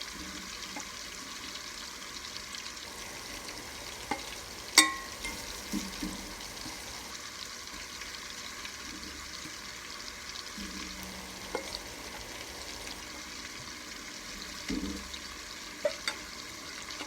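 Scallops and shrimp sear in a hot pan with a soft, steady sizzle, punctuated by a few light clinks and handling noises, heard alone without talk.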